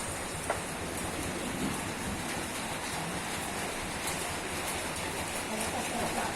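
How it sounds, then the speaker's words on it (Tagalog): Constant hiss of rain falling steadily, dense and even throughout, with a faint voice buried in the wash. "Lalakas ang ulan."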